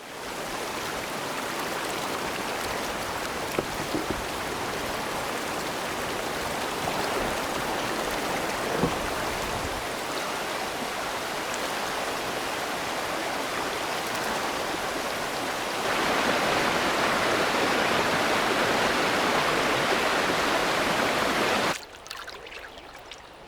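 River rapids rushing on a canoe journey down a wild river, a steady dense roar of white water that holds close and loud throughout, swelling slightly near the end before cutting off abruptly.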